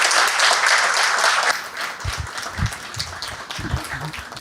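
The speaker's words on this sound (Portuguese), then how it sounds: "eu queria pedir uma salva de palmas ao doutor Zé Maria Rabelo" An audience at a Sempre um Papo evening talk event in 2019 bursts into loud sustained applause, then the clapping thins into scattered claps with faint voices underneath.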